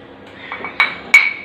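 Glass jars of coffee and tea leaves set down on a kitchen shelf, with a few soft knocks followed by two sharp, ringing glass clinks, close and clear, with no talking.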